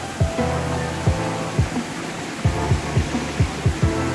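A monsoon waterfall that flows only in the rainy season gives a steady, full rushing roar, with a few dull low thumps recurring through it.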